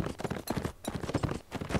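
Horse hooves clip-clop in the Mount & Blade video game, a steady run of soft, evenly spaced thuds that continues throughout at moderate level.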